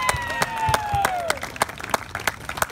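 Wedding guests clapping at a reception, a handful of distinct, fairly sparse claps near by, with voices calling out and speaking over them early on.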